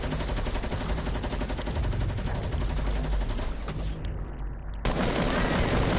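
Dense, rapid video game gunfire rattles on almost without pause, loud and close, then briefly thins out before the shooting resumes.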